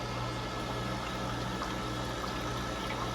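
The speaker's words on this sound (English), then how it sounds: "Now you can hear the fan moving." The fan of a Freezimer countertop electric ice maker runs as a steady, close, broadband whoosh with a low hum underneath, continuous and unchanging throughout.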